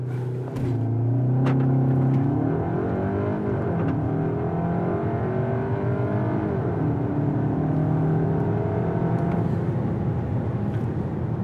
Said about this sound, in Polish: sprawdźmy, jak ten samochód przyspiesza ze startu zatrzymanego.